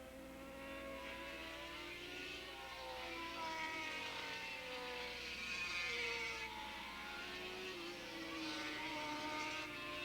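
Racing motorcycles, including Formula 1 and Formula 2 class bikes with a Suzuki among them, roar past on the track at Willow Springs Raceway, a steady loud engine drone that swells and fades as bikes pass.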